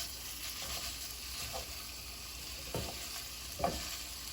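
Ground beef sizzles in a skillet, with a few scraping thuds as a tool breaks it up; a steady low hiss under occasional knocks.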